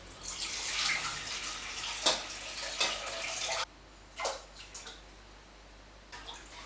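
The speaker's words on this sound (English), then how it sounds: "Just mix it all together and let it dissolve." Sea salt is stirred into water in a bowl to dissolve while making kimchi, giving close swishing and sloshing that fades, followed by a few brief splashes and drips.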